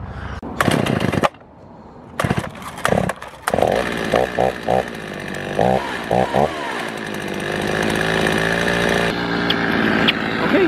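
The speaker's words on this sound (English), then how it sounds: "I got a little bit of chainsaw to do with my new chainsaw" A chainsaw revs in several short bursts with pauses, then settles into a long, loud, continuous cut with the engine roaring close up.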